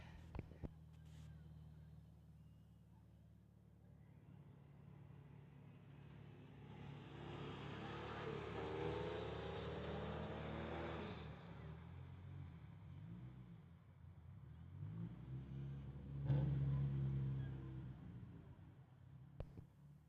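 Street-legal BMW drag racing down a strip, its engine rising from a distant rumble into a swelling, revving roar that fades away, heard from afar over low background noise.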